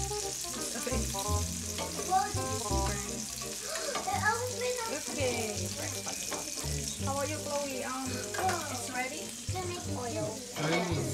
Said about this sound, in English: I'm cooking the sausage.